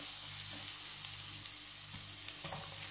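Garlic and onions frying in oil in a pan, a soft steady sizzle with faint stirring scrapes, quiet and close, no talking.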